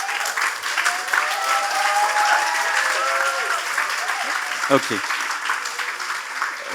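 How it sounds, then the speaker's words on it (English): An audience at a youth leadership dialogue event applauding: dense, sustained clapping from a large crowd filling the room, with a brief spoken word near the end. "thank you so much for the great applause"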